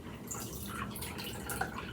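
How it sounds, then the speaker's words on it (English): Water trickles and splashes steadily into a bowl of pancake batter, a continuous liquid pouring sound with small drips, close and moderately quiet. "So I'm just pour some water in."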